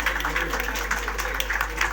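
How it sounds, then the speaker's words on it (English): An audience at the 7th Filmfare Awards Marathi ceremony gives a dense round of applause, a steady wash of many hands clapping at moderate volume over a low background hum. "Let's give them a huge round of applause."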